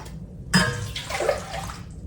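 Water suddenly gushes from a kitchen tap over green beans being washed and runs for a second or two, splashing close by, with brief dripping before it starts.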